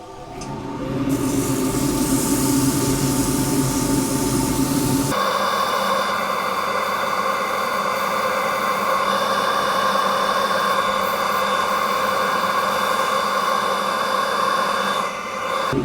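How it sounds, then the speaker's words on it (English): Green Osage orange wood spinning on a lathe is sanded with 180 grit sandpaper, a steady close hiss and rub over the machine's hum that shifts character once partway through and continues without talking. "And sand that with 180 grit."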